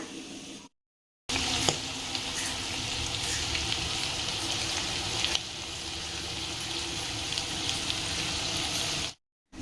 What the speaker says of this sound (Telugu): బోటీ అయితే మంచిగా ఆయిల్లో ఫ్రై అయింది